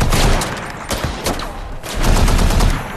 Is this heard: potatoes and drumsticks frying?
no